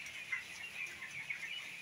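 Eighteen-day-old chickens on a small farm give faint, soft clucks and peeps that stay quiet and steady in the background.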